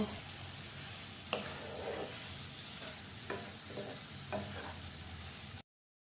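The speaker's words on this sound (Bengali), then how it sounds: "মশলাগুলো দিয়ে এবার আমি মাংসটাকে ভালোভাবে কষিয়ে নেব।" Chicken sautéed with turmeric, Kashmiri red chilli powder and chicken masala in a pan for a restaurant-style chicken masala, giving a steady close sizzle with several scraping stirs of a spoon, no voices.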